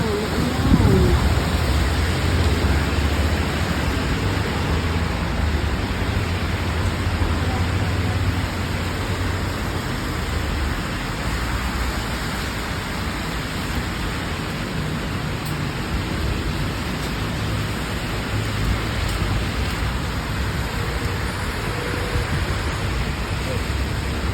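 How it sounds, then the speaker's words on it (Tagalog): Heavy rain in Tokyo pours down in a dense, unbroken hiss, loud and steady throughout, with a faint voice briefly at the start. "Ang lakas ng ulan."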